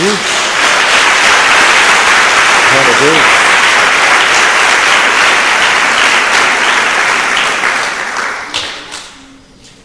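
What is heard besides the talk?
church congregation applauding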